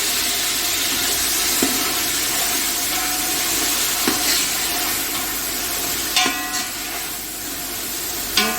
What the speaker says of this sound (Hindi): अब इसमें डालूंगी टमाटर